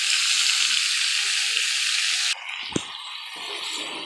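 Vegetable stems and potatoes stir-fried together in a pan, a bright, steady sizzle that abruptly drops to a softer crackle, with a sharp knock of the spatula and scraping afterward.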